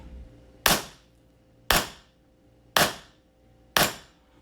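A SIG Sauer P320 M18 gas blowback airsoft pistol fires four sharp, evenly spaced shots about a second apart, each a crisp close snap with a short decaying tail.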